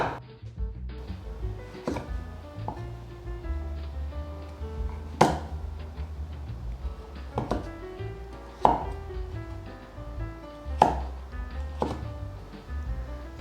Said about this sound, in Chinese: 切半之后，来切成块状。